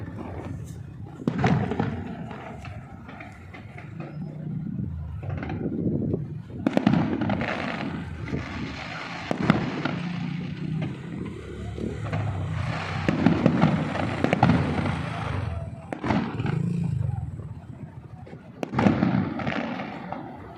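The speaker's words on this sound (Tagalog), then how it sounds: "Wow, ang ganda na fireworks dito" Fireworks pop and thud in irregular bursts at a distance over Seaside Boulevard at SM Mall of Asia, with crowd chatter and voices continuing underneath throughout.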